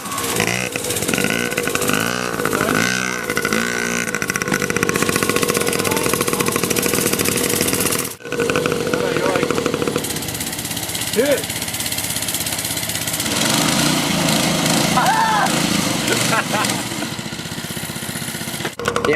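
A dirt bike engine runs outdoors, a mid-pitched idle with revs rising and falling throughout, under people talking and briefly interrupted partway through.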